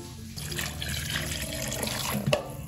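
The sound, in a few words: water poured over bamboo shoots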